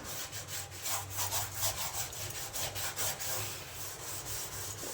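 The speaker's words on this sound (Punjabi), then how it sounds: "ਇਸੇ ਤਰੀਕੇ ਨਾਲ ਹੀ ਰਗੜੀ ਜਾਣਾ ਇਹਨੂੰ ਸਾਰੇ ਸਿੰਕ ਨੂੰ ਚੰਗੀ ਤਰ੍ਹਾਂ ਰਗੜ ਲੈਣਾ ਜੀ" A scrubber rubs back and forth on a steel kitchen sink in quick rhythmic strokes, a close, continuous grating scrub with no voices.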